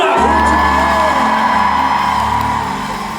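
A concert audience at a god show whoops and cheers loudly in one sustained burst that eases off slightly toward the end.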